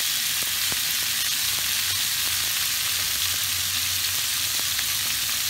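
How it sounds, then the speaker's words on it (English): Half a kilo of lamb mince frying in olive or vegetable oil over strong heat, a loud continuous close sizzle with faint scattered pops, no voices. "Once you've got a nice strong heat, add your lamb mince straight in."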